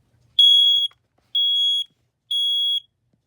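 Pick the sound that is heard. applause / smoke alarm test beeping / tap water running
smoke alarm test beeping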